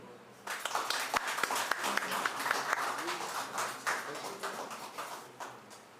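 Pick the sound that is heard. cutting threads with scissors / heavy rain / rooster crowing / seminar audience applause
seminar audience applause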